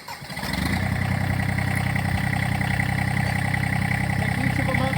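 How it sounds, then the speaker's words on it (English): A Massey Ferguson tractor engine with backhoe attached is keyed on and settles into a steady, close idle, a continuous low rumble with a rapid regular pulse. "I like to key the tractor back on and make absolutely sure."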